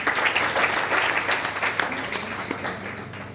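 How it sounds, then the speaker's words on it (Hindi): An audience at a college speakers' event in Bihar breaks into loud applause that swells at the start and slowly tapers off. "इनके लिए जोरदार ताली हो जाए।"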